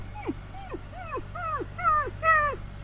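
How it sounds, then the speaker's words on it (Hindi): An injured puppy whimpers and yips in a series of short, rising-then-falling cries, growing slightly louder toward the end, over a low background hum. "रास्ते में एक घायल पिल्ला पड़ा है।"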